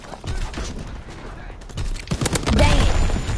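Machine gun fire from a mounted MG in a video game battle with a tank nearby, a rapid burst of shots that builds louder after a short lull, under talk.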